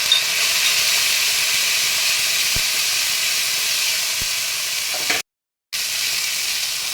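Cumin goes into ginger paste frying in a pan, producing a steady, close hiss and sizzle that runs almost unbroken, with a couple of faint clicks and one brief dropout near the end.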